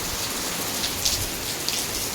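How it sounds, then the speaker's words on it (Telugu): Steady rain pours down in a dense, even hiss, with a few sharper drops pattering close by. "వాన పడుతుంది"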